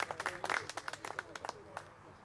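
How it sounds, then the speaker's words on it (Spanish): Scattered applause at a golf club lunch, a modest round of distinct claps from a small gathering, quiet and fading out into a hushed room. "un aplauso para Fernando"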